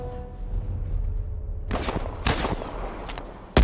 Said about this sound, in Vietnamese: Bắn, bắn đứa nhóc này.